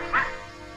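A house dog, agitated by rats indoors, gives a single short bark, faint and somewhat distant against a quiet background.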